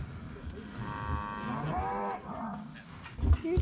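Cattle moo nearby as cows are driven into a handling facility, a long drawn-out low call followed by a second rising moo, over faint background rustling.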